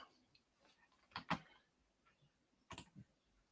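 Computer keyboard and mouse clicks, a few faint, sparse taps and a short cluster of sharp clicks heard close in a quiet room.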